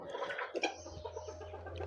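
A rooster clucks and calls in short, fairly faint bursts close by, with a low steady hum underneath.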